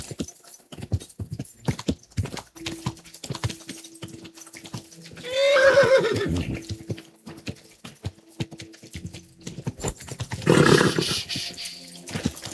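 Horse in the video game Kingdom Come Deliverance II, hooves clip-clopping steadily throughout, with a loud whinny rising in the middle and a second breathy snort-like burst near the end, no talking.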